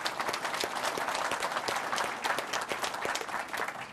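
Audience applause at a business panel event, steady dense clapping from a crowd filling the hall throughout, with no talking over it.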